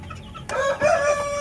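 A backyard rooster crows once, close by, with a bright, loud, drawn-out call following a brief quieter moment.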